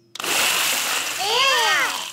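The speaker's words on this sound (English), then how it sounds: "Daddy Pig has splashed everyone with water." Broadband splashing water fills the clip after a brief pause, continuous and close, with voices and a rising-falling cry layered over it near the end.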